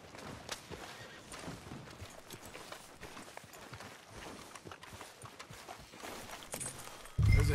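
A horse walks at a steady clip-clop pace in Red Dead Redemption 2, hooves falling in an even rhythm over a low ambient bed, with a louder thump right at the end.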